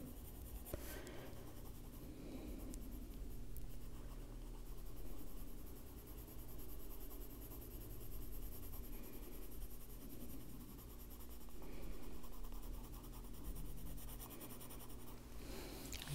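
Graphite pencil shading on paper under light pressure, darkening the area beneath a hat in a folk-style wizard drawing; a steady, soft, continuous scratchy rub that carries on near and alone throughout.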